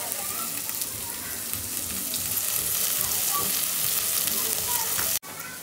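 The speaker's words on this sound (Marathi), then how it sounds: "गरम गरम तेलामध्ये टाकले कांदा, लसूण" Onion, garlic and bay leaf sizzle and fry in hot oil in a home kitchen, a loud steady crackle throughout that cuts off abruptly near the end.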